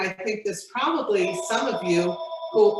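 A phone rings in a room during a challah-baking demonstration, a repeating electronic tone sounding faintly beneath a woman's steady speech.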